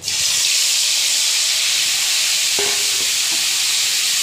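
Mixed spices sizzle and hiss loudly and steadily in heated oil as the base for a fish curry, with a few faint clinks partway through and no talk.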